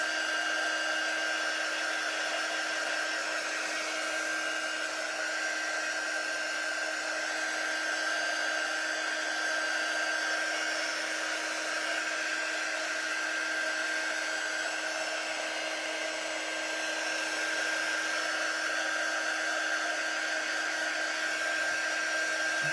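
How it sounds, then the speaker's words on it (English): A hair dryer blows continuously over shimmer paste on a silk screen stencil, a steady loud whirring hum with a constant whine that barely changes for the whole stretch. "Dry it really well. The shimmer paste does take a little bit longer to dry"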